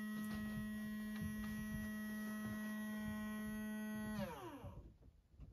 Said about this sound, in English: it was a motor spinning constantly